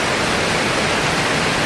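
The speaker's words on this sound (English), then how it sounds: "It's a beautiful waterfall." Constant roar of the Shepperd's Dell waterfall in the Columbia River Gorge, a dense, unbroken wash of water noise heard up close, steady in level throughout.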